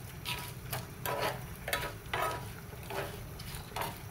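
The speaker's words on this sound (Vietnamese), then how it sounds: "Rồi mình bật bếp lên trở lại. Trộn cái nấm này." Vegan mushrooms stirred in a hot pan, soft sizzling with a series of regular scraping strokes about every half second, quiet and close.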